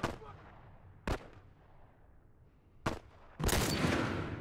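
Gunfire in the video game The Last of Us Remastered: two sharp, isolated shots ring out, then a louder, sustained burst of firing. All of it sits over a quiet, rumbling background.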